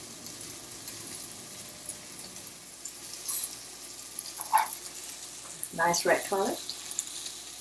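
Shrimp seasoned with turmeric and cayenne fry in a pan at home, a soft continuous sizzle running under the whole clip while someone briefly speaks nearby.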